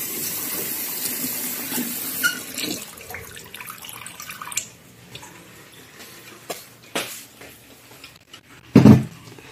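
Tap water runs over boiled eggs during a rinse to cool them, a steady gushing splash that is loudest at the start, followed by fainter clatters and a sharp knock near the end.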